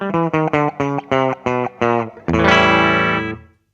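An electric guitar through a Mooer GE100 multi-effects pedal on a clean patch plays a run of short plucked notes, then lets a full strummed chord ring out and fade.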